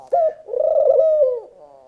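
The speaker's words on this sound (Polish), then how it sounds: "zaobserwować grzywacza, największego gołębia, który żyje w Polsce, dzikiego gołębia" A wild wood pigeon, the largest pigeon in Poland, gives a single clear, close coo that rises, holds for about a second, and fades, with no other sounds around it.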